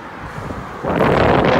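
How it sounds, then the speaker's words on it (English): Strong wind buffets the microphone outdoors, a steady rumbling roar that swells sharply partway through and stays loud, with no speech. "Can you hear me over this wind?"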